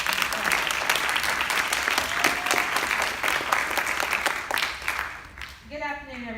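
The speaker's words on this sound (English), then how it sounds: "Let's give them another round of applause." A ceremony audience at a Veterans Day event applauds musicians and singers with loud, sustained clapping from many hands, fading out near the end as a voice begins speaking over the microphone.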